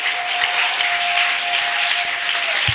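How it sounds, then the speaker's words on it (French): An audience applauding, steady dense clapping that stays loud for the whole few seconds. "Acclamez-le."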